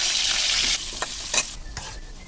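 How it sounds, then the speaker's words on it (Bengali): Turmeric- and salt-coated potatoes sizzle in hot oil in a wok, a loud hiss that eases after the first moment, with a few sharp stirring clanks and scrapes standing out near and clear. "এরপর আলুগুলো একে একে দিয়ে সবগুলো আলু একসঙ্গে ভালো করে ভেজে নেব।"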